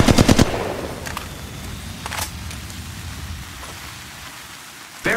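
Rapid burst of automatic gunfire in Apex Legends Mobile opens the moment, loud and close, followed by scattered single shots and a lingering crackly rain-like hiss, with another sharp report at the very end.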